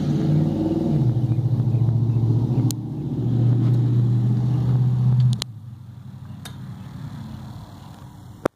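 A 1999 Mercedes E300 turbo diesel, converted to run on vegetable oil and fitted with a high-flow intake, idles with a steady low rumble heard up close. The engine settles lower partway through, and a few clicks stand out.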